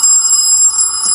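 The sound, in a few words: Cubot X11 smartphone ringtone at full volume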